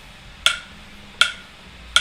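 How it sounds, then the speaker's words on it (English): Three sharp, clicky metronome ticks sound at an even 80 beats per minute, each crisp and isolated against near silence. "I'll pull up my metronome here"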